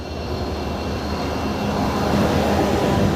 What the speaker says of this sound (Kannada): Indian railways royal blue ಇಂಜಿನ್ಗಳು 2 double engine, royal blue double engine, heavy sound.